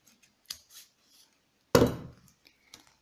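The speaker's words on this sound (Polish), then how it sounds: "ostre nożyczki i przecinamy sobie nasze niteczki" A single sharp snip of scissors cutting yarn threads on a crocheted pompom, close and fairly loud, followed by a short rustle, with a couple of faint clicks before and after.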